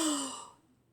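A single breathy exhale from a person yawning, loud at first and fading out over about half a second, heard alone.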